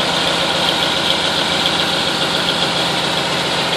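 M931 military truck diesel engine idling after a cold start, a loud steady rumbling drone with no change in pace, alone with no voices.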